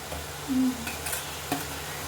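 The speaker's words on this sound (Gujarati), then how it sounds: "આ ડુંગળી ટમેટું વઘાર કરે છે" Chopped onion and tomato sizzle in hot oil as a tempering for a paneer dish, a soft, steady frying hiss under light stirring, with a few faint clinks and scrapes from the pan.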